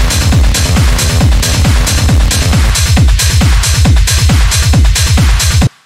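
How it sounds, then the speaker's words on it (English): Hard rave techno drums pound at 136 BPM, a loud, steady four-on-the-floor kick with dense noisy percussion over it, playing alone and cutting off abruptly at the end. "the drums just feel a lot more intense at this tempo"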